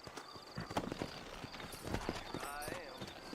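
Horse hooves clip-clop steadily in a Western video game, Red Dead Redemption, mixed with a brief whinny, under a voice talking throughout.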